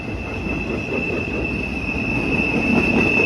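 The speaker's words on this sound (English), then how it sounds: "the m316-18 eastbound mixed freight train right now" A CSX eastbound mixed freight train rumbles steadily past nearby, with a high sustained wheel squeal ringing over the continuous rolling noise.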